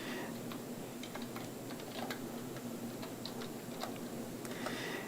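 Quiet, steady typing on a computer keyboard while entering a username, a light run of irregular key clicks heard close against faint room hum.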